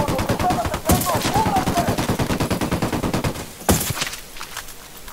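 Rapid, sustained automatic gunfire from the Ghost Recon Wildlands video game, a dense run of close shots with a sharp louder burst near the end, with people talking over it.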